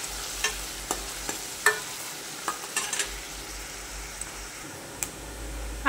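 Sliced onion fries and browns in hot oil in a pan for a Marathi mutton rassa, a steady soft sizzle broken by occasional clicks and taps of stirring.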